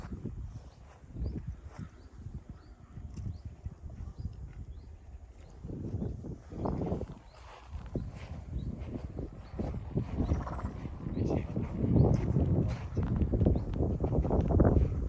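Outdoors, horses walk along with a steady clip-clop of hooves, with faint rustling and occasional birds in the background.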